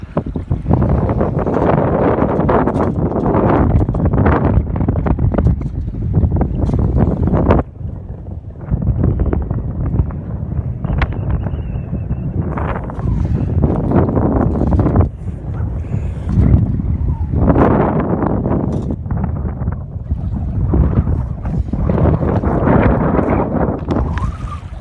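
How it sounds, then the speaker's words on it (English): Strong, blustery wind buffets a Leisure 17 sailboat and the microphone, producing loud, rumbling gusts that rise and fall over almost twenty-five seconds, with one brief lull. "forgive the noise because it is very windy and blustery today"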